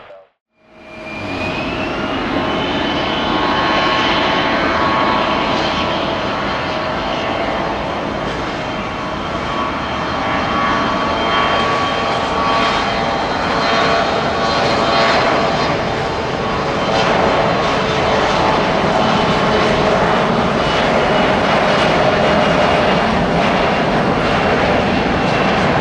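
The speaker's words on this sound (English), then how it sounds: "runway 21 right, clear for takeoff" An airplane takes off at Detroit Metro Airport from runway 21 right, its engines building into a loud, steady roar with rising whine tones that holds for the whole stretch, without talk.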